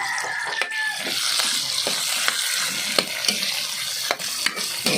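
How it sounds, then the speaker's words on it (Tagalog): Onion, garlic and tomato sautéing together in a hot pan for a Filipino sinigang dish, a continuous bright sizzle broken by regular sharp spatula scrapes and clacks, close up with no talking. "Sabay-sabayin yan, sibuyas, bawang, at saka kamatis."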